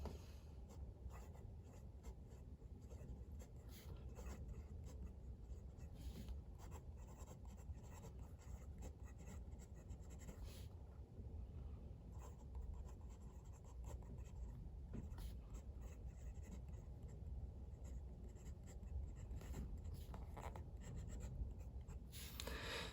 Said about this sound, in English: Let's just do a very quick live writing sample now.